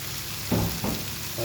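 Boiled potatoes dropped into frying chickpeas and stirred, a steady close sizzle broken by two brief louder thumps and scrapes of the spoon in the pan, no voices.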